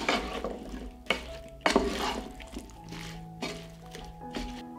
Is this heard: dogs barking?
no